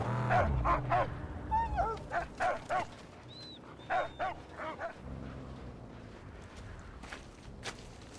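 A dog in the Mad Max video game barks and yips in a quick burst of several sharp, close barks, then falls quiet while a faint wailing tone and low background rumble continue.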